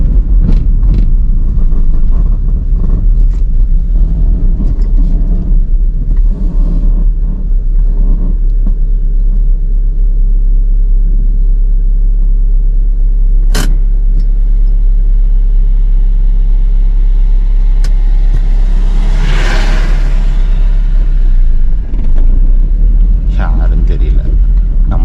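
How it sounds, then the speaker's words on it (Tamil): A car on a winding forest road in the Nilgiri hills near Ooty swells past about two-thirds of the way through, rising out of a heavy, constant low rumble and wind noise from the moving vehicle, with voices talking over it. "அங்கே பாருங்கள், அங்கே ஒரு கார் வருது."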